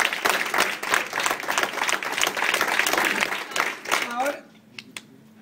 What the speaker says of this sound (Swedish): Så han får en applåd.